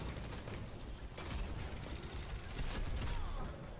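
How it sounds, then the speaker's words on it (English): Dense, rapid gunfire fills a round of Overwatch Mystery Heroes, with continuous shooting and bursts of combat effects at a steady, fairly quiet level throughout. "Someone shooting me behind me."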